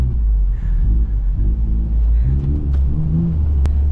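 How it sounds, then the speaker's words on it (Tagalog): A modified 4x4 offroad vehicle engine labouring hard on steep terrain, a loud, deep rumbling drone with surges of revving, close and continuous with no speech. "Marinig nyo sa tunog na sasakyan kung gaano pinapersa namin yung mga sasakyan dito"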